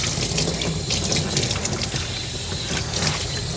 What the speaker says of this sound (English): rinse the whole body, the legs, come around at the head, bring the head down